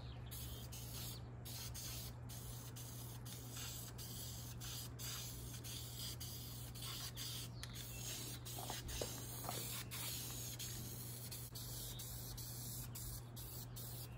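Spray paint hisses onto the bare metal door of a 1969 Super Bee in a backyard, quiet intermittent bursts of spraying at close range with no talking.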